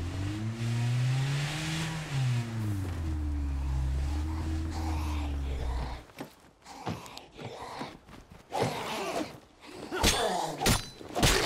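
A car engine in a video game revs and drones, its pitch rising and dipping for about six seconds, loud and close, before giving way to scattered clattering and impact noises.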